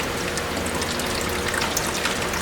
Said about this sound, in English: All right, so I'm just gonna rinse this one.